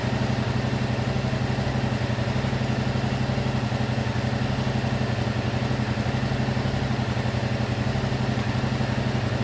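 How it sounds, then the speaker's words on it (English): A motorcycle engine idles steadily while warming up, a constant low rumble with a fast, even clatter throughout. "Now what I'm doing is heating up the engine"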